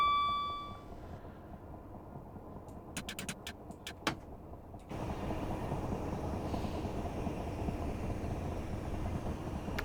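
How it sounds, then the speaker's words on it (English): Train running on the Chatham Main Line in Train Sim Classic: a quiet cab hum with a few clicks and thumps, then a steadier, louder rolling rumble in the second half. "I hope the second train that we drive is a bit louder than this one."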